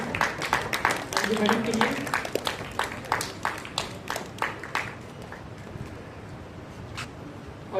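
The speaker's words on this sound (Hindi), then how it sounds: "एक बार जोरदार तालियां गर्ल्स स्कूल मैडम" Applause at a girls' school result celebration for the principal on stage: a burst of clapping under a speaking voice, loud at first, then thinning into scattered separate claps that fade out.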